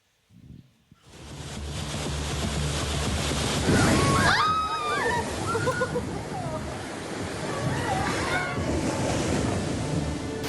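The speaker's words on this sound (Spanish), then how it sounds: "Mira cómo pega el mar." Heavy sea surf pounds the shore during abnormal storm swells, a loud continuous roar of crashing waves with gusting wind noise buffeting the microphone and faint voices underneath.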